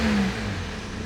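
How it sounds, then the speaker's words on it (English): A BMW F40 M135i xDrive engine, still cold, gives one brief, moderate rev that rises and then settles, heard alone and close. "Give a little rev so you can hear it."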